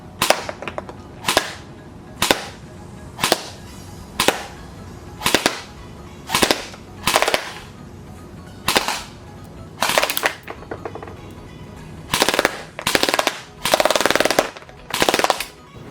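ICS SPR and CQB upper airsoft guns fire in a chrono and accuracy shooting test, loud close bursts of rapid cracking shots separated by short pauses, some bursts longer and denser, with no talking.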